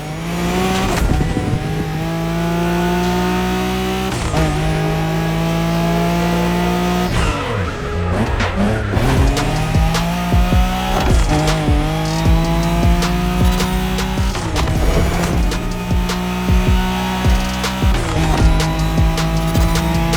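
Nissan Skyline racing in a video game, its engine revving loudly and steadily while tires squeal and skid in repeated bursts through corners, with no talking over it.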